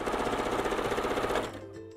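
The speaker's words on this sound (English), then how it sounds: "Okay, that's my strip piecing done." A sewing machine stitches strip-pieced fabric seams for a pouch, a fast, steady mechanical rattle running close and loud for about a second and a half before it stops, followed by faint handling noises.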